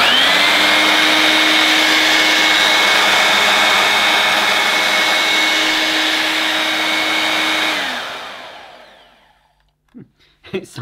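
A Hoover Brushvac hand-held vacuum cleaner runs loud and close with a steady, high-pitched whine and rushing airflow for about eight seconds, then winds down to silence, followed by a few faint handling knocks.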